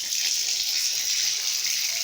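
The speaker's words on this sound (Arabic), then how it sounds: "احنا فاتحين ميه بس عشان نشوف الميول" Tap water pours steadily into a small repaired fiberglass bathtub, a continuous close hiss and splash with no voices.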